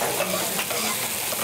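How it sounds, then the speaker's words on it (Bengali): Tomato stirs into a hot frying pan, a dense close sizzle with scraping spatula strokes throughout, steady and loud with no talking. "এখন ওই যে টমেটো অ্যাড করব।"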